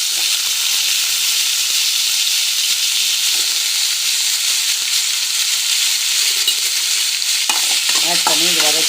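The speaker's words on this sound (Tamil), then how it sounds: "பெருங்காயம் போட்டோடனே இதில் உருளைக்கிழங்கு ஆட் பண்ணிக்கலாம்." Potatoes frying in a kadai with hot oil, mustard seeds, curry leaves and asafoetida, giving a loud, steady sizzle and hiss throughout, with a few stirring scrapes near the end and no voices.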